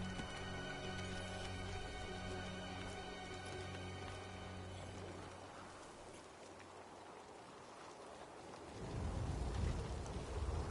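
A storm in the Star Wars Jedi: Survivor video game, with a steady wash of rain and low rumbling over a droning tonal game score that fades into heavier rumbling noise near the end, with no voices.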